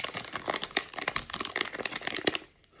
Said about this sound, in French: je vais tout déballer pour commencer parce qu'il y a quand même pas mal de choses